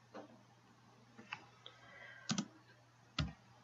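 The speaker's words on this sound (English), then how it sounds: "And now I'm gonna type the keyword." A computer keyboard tapped while entering a search keyword, giving a few sparse, sharp clicks and taps at close range over a quiet background hum.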